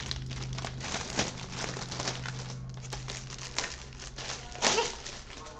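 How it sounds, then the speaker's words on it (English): A package's plastic cover crinkles in close, irregular bursts of crackling, with a few sharper rustles standing out over a low steady hum. "we got a little bit of a crinkling, but I'm not too worried because I see it's got a plastic cover"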